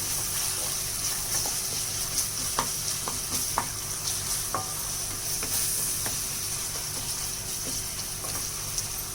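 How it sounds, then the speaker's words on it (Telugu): Tomatoes sizzle and fry steadily in a pan, with occasional clicks and scrapes of a spoon stirring them, a continuous close hiss throughout with no talking. "టమాటా బాగా మగ్గిపోవాలని బాగా వేగిపోయేదాకా ఉన్నాను. ఒకసారి తిప్పేసుకున్నాను."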